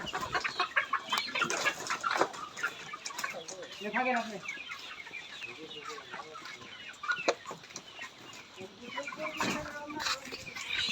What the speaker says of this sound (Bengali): এইখানে আমাদের মুরগিগুলো আছে